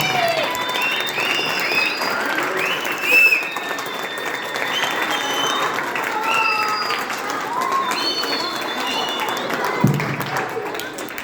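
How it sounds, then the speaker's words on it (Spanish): An audience at a school event claps in sustained, dense applause, with crowd murmur and a few raised voices mixed in. "El aplauso es más cálido que el silbido, les cuento."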